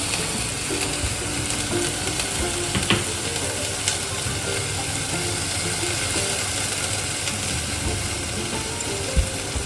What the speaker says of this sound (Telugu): సో ఫస్ట్ బటర్ వేసేసుకుంటున్నాను.